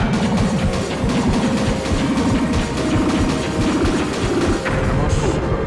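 Medievil PlayStation boss battle: the boss hurls crystals, and repeated heavy smashing and crashing impacts land amid loud, dense game sound effects and music, with a faint voice partly audible.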